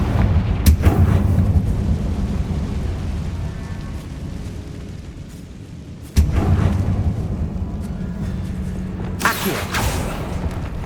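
A Confringo fire spell blasts in the video game Hogwarts Legacy, heard as two sharp booming impacts a few seconds apart over a loud, rumbling fiery roar, followed by a bright crackling burst near the end.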